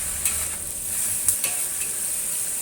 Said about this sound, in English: There should be a constant sizzling sound throughout the stir frying process.